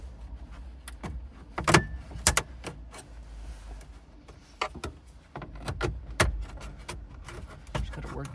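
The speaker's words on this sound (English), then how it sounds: "go ahead and take your plastic trim tool." A plastic trim tool pries at the dash trim of a 2002 Chrysler Sebring Convertible, producing scattered sharp clicks, snaps and scraping knocks up close inside the car.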